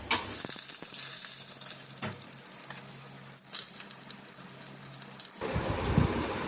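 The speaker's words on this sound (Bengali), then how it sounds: "তেলটা গরম হওয়ার পরে আমি বড়িটা ভেজে নেব লাল লাল করে।" Lentil dumplings (bori) fry in hot oil in a wok, a close, bright sizzling crackle with clatter and stirring, swelling and fading before a denser bubbling hiss takes over.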